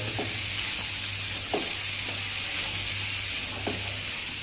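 Flattened-rice upma is stirred and mixed in oil in a pan, with a low constant frying sizzle and a few soft scraping strokes of the spoon at an unhurried pace.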